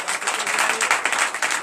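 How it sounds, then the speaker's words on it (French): A church congregation applauds during a night service, a dense burst of rhythmic clapping heard up close and fairly loud. "Donc je vous demande d'applaudir très fort."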